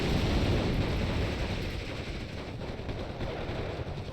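Battle din in the World War II strategy game Steel Division 2, a continuous dense roar of gunfire and explosions with rumbling low end, steady and loud throughout.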